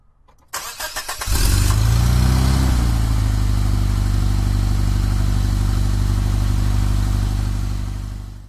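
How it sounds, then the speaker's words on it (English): A car engine cranks with a short clattering starter burst, catches and revs up, then settles into a loud, steady, close idle that fades slightly at the end. "Cars come in many sizes, shapes, and colors. They have engines that run on fuel or by battery power."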